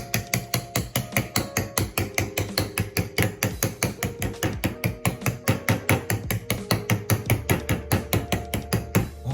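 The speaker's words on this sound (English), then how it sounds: "you're gonna take a fork and poke as many holes as possible" A fork jabs rapidly and repeatedly into keto pizza dough, making a fast, even train of sharp tapping knocks that continues without a break, with no talking.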